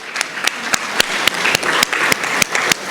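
An audience at a university faculty and staff awards luncheon breaks into applause, a loud, close burst of many hands clapping with sharp individual claps standing out against the dense patter.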